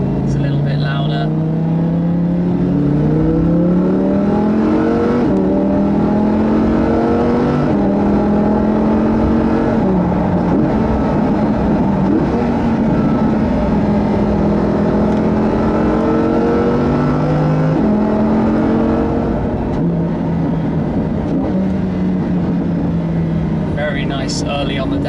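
A Lamborghini Huracan LP610-4 engine switched into sport mode while driving, with loud continuous engine drone that climbs and drops through gear changes, under someone talking for most of the stretch.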